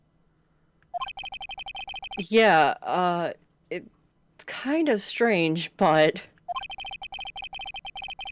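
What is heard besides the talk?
phone ringtone in Phoenix Wright video game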